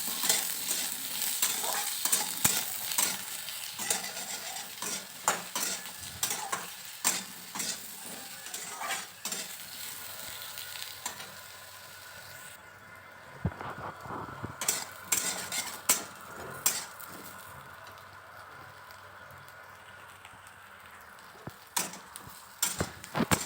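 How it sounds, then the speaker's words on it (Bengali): Potato pieces and soybean chunks frying together in a pan, with a steady sizzle broken by frequent clinks and scrapes of a utensil stirring against the metal, close and with no speech. "আমি দুটো আলু আর সয়াবিনটাকে ভেজে নেব।"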